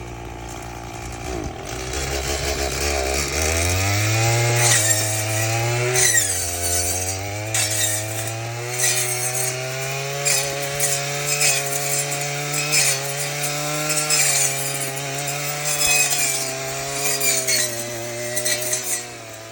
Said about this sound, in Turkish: Motorlu tırpanın ucuna taktık bir tane testere